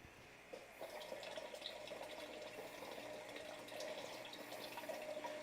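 Water runs steadily from a tap or hose into a container during home brewing, a quiet continuous hiss and splash with no talking.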